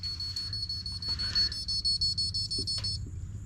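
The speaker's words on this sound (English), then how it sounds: "As soon as I plug in the USB UART controller, my earth guard alarm triggers" A battery system's earth guard alarm sounds, a steady high-pitched electronic tone that holds through most of the moment and then shifts, over a low background hum.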